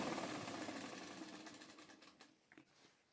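A sewing machine stitching a finishing strip close along a seam joint, its rapid needle clatter quiet and gradually slowing before stopping, with a few faint handling taps afterward.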